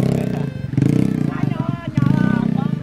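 Motorcycle engine catches and runs again after stalling, with repeated throttle blips and sputtering revs up close while people talk excitedly over it.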